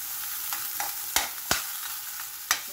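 Garlic sautéing in a pan for sinigang, a soft, steady sizzle broken by a few sharp clicks and scrapes of a spoon stirring.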